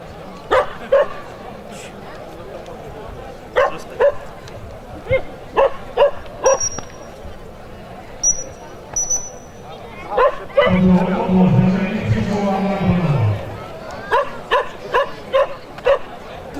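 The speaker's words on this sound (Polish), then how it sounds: "Nie mogło zabraknąć prezentacji psów używanych do polowań." Hungarian vizsla hunting dogs at a Carpathian forest event giving repeated sharp barks and yips in clusters, close and loud, with one longer drawn-out howl in the middle.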